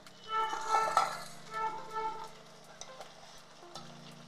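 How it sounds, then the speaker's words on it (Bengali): Spice paste is added to a pan of fried potatoes for a fish curry, bringing a burst of sizzling and stirring scrapes up close that settles into softer frying with occasional utensil taps. "এবার আমি মশলার পেস্টটা দিয়ে দিচ্ছি।"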